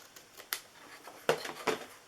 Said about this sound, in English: So I'm just going to trim that part right there.